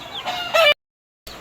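Chickens and young chicks in a large coop give a few short, close clucking calls in quick bursts, then fall silent before one more brief call.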